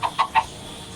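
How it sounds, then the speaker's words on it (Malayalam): Chicks cluck in the Craft World video game, giving three short, bright chirps in quick succession near the start, then falling quiet. "രണ്ട് കോഴിക്കുട്ടികൾ."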